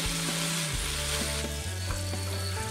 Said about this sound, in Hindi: तो कुछ सेकंड तक इनको भी हमें फ्राई कर लेना है, मिर्ची और लहसुन का जो कच्चापन निकल जाए इसलिए हमें इसे फ्राई कर लेना है।